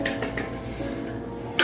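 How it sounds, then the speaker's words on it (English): A whisk clinks and scrapes rhythmically against a bowl while mixing dry bran muffin ingredients: wheat bran, baking soda, baking powder and iodized salt. The close, quick strokes repeat evenly over a light metallic ringing. "With your whisk, mix that well together"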